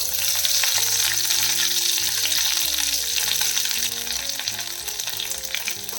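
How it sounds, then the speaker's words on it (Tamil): Mustard seeds and curry leaves splutter in hot oil for a green tomato dish, a continuous crackling sizzle with sharp pops, set against a soft melodic background. "ஒரு டீஸ்பூன் கடுகு சேர்த்துடலாம் கடுகு பொரியட்டும் கடுகு வடிக்குது கொஞ்சமாக கருவேப்பிலை சேர்த்துடலாம்"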